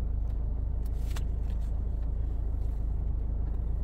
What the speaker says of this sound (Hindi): चला दो गाड़ी